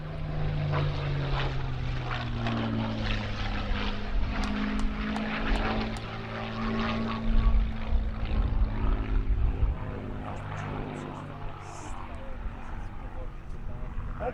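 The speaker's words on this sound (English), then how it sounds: "And the Spitfire, I think, is probably going to do a victory roll." Supermarine Spitfire with a Merlin engine flying a victory roll at an airshow, its propeller drone loud and steady throughout and rising and falling slightly as it passes, with a commentator talking over it.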